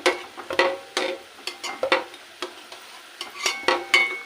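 Onions frying in a pan, with irregular scraping and clinking stirs and soft sizzling bursts, fairly quiet and close, with no voices.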